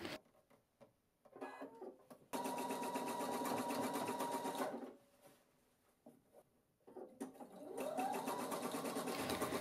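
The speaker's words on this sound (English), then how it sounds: "fold the elastic over and zigzag again, making sure you're still stretching the elastic as you go" A sewing machine zigzag-stitches stretched, folded elastic on a fabric scrub cap, in two close, steady runs of fast stitching with a quiet pause between them.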